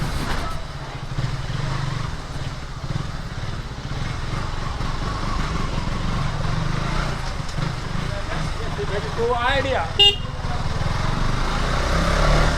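A KTM Duke motorcycle engine runs with a steady low rumble and a rough, uneven vibration, sustained throughout at moderate loudness, with a brief higher-pitched whine near the end.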